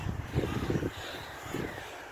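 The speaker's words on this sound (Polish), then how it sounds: "Ptaki." Crows caw a few times in a city park at Pola Mokotowskie in Warsaw, a short burst of harsh calls followed by one more, fairly distant over soft outdoor background noise.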